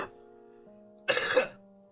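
A single wet cough from someone with a lingering chest cough, one harsh close burst over a faint steady tonal hum.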